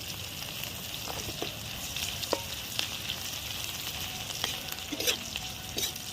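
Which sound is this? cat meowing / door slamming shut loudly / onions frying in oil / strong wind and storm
onions frying in oil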